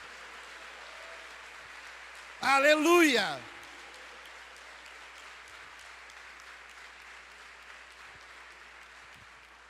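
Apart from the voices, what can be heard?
church congregation applauding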